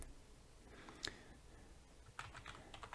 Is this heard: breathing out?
no